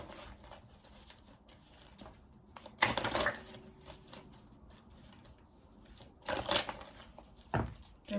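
Earth Warriors oracle cards shuffled by hand, soft papery riffles and pattering bursts near the mic, strongest around the three- and six-second marks, with quiet handling noise between.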